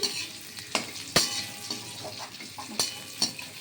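Boiled potatoes frying in a pan while being stirred, bright sizzling broken by sharp clacks and scrapes of a spoon against the metal, close and without speech.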